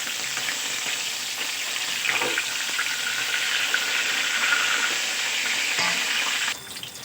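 Pieces of rui fish frying in hot oil in a pan, a steady dense sizzle and crackle running close and unbroken throughout, dropping slightly at the very end.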